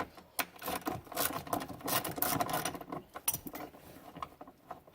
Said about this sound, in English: Okay, so again the number 10, ratchet.